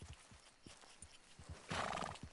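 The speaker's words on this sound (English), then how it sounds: "Oh, I hear horses." A horse neighs loudly in Red Dead Redemption 2 after a few soft hoof clops, the whinny rising up near the end of the moment.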